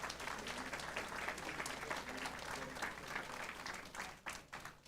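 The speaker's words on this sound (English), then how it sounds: "Let's give him a big round of applause." An audience claps for an honoree at a school board of education meeting. The applause is steady and fairly soft and distant, running for about five seconds and thinning toward the end.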